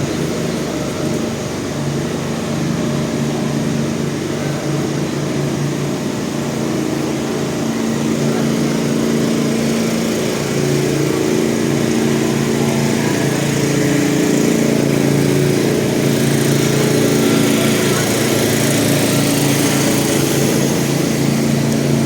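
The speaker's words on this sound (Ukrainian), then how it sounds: "Найкраща ідея з генераторами." Portable generators running in a Lviv city-centre street on a hot summer day, a steady droning engine hum held at constant loudness throughout with no talk.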